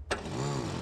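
A scooter engine in the video game PUBG catches with a short burst, then settles into a rising mechanical hum, all within under a second.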